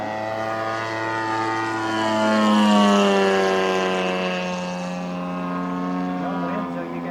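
A model Focke-Wulf FW-190 A-5 airplane with a Zenoah GT80 twin-cylinder engine comes in to land with flaps down, its engine droning loudly and shifting in pitch as it passes, while people talk nearby.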